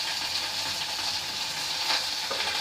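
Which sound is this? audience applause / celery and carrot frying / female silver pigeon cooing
celery and carrot frying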